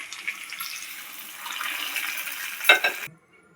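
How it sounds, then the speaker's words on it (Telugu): Hot tempering of seeds, cumin and curry leaves poured into horse gram soup, giving a steady hiss and sizzle that swells into a brief louder burst near the end, then stops abruptly, close. "తాలింపు రెడీ అయింది. ఇప్పుడు ఉలవచారులో వేద్దాం."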